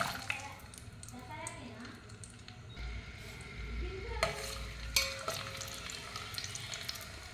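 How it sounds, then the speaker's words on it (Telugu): Hot oil with curry leaves and dried red chillies sizzles steadily as about twenty peeled garlic cloves go in, with a louder crackle and some stirring scrapes. Someone talks quietly over the frying. "ఇప్పుడు ఇలా ఒక ఇరవై గల్ల ఎల్లిపాయలు వేసుకోవాలి"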